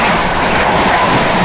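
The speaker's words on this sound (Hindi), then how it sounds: "सुपरफास्ट एक्सप्रेस ट्रेन का जो है क्रॉसिंग का सिलसिला चालू हो जाएगा" Superfast express train rushing past at close range on an Indian railway line, a loud, steady rumble of wheels and carriages filling the whole moment.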